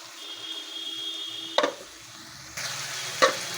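Potatoes and bitter gourd go into a pan of cooked-down spice paste: a quiet start, two sharp spatula scrapes, then a steady close sizzle of frying.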